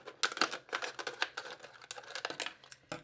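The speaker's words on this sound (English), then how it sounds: "put the bottom of my scissors in that hole and cut all the way around to get that bottom off" Scissors snip around a plastic water bottle to cut its bottom off, making a rapid run of crisp, crinkly clicks and cuts close to the listener.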